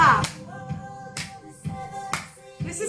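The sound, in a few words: audience clapping along to a cappella singing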